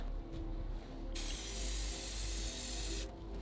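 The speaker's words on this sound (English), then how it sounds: "now we just spray the paint in the water" Spray paint hisses from an aerosol can onto water in one sustained burst of about two seconds, close and loud, preceded and followed by quieter rattling handling sounds.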